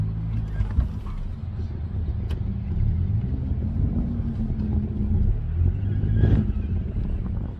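A 2019 Honda Civic Sport with its muffler deleted idles and drives with a low, droning exhaust rumble that swells briefly, while voices talk faintly over it.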